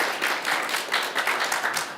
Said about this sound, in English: Please give them a round of applause to get them going.